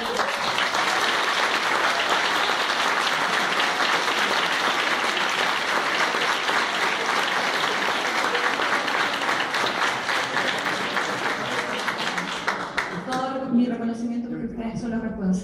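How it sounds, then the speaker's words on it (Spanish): Sustained applause from a large audience at the closing ceremony of a Chilean psychology congress on a university campus, loud and steady throughout, easing near the end as a single voice speaks over it. "quiero pedir un especial aplauso para ellos"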